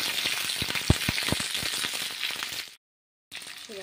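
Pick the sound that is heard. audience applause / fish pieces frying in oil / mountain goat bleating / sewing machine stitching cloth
fish pieces frying in oil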